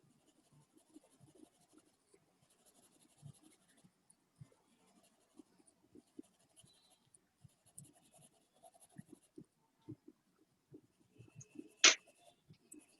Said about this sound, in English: I'm using H pencil to fill it.